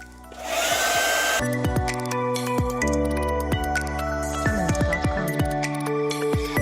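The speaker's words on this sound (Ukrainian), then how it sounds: "Тепер феном ми підсушуємо місце, де буде клеїтись скотч двосторонній." A hair dryer blows with a steady, loud whoosh, interrupted by clattering and knocking sounds as it runs continuously, drying a window frame before double-sided tape is applied.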